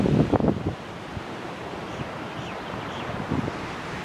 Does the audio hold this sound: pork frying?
no